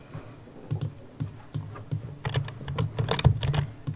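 A computer keyboard is tapped while building in Roblox. Light, quiet clicks come in a loose, irregular rhythm, sparse at first and then quicker and closer together.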